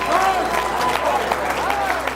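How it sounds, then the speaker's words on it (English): A brief burst of audience applause at a motivational speech, steady clapping with excited voices calling out over it, filling the hall at moderate loudness. "Get the old man a round of applause."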